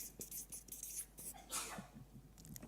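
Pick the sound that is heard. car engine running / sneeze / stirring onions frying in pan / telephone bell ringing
sneeze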